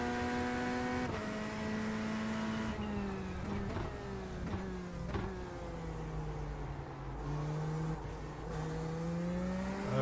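Race car engine in the iRacing sim, a Dyson-powered car, holding a steady loud drone with rising and falling pitch as it revs and shifts gears over ten seconds, with no talking.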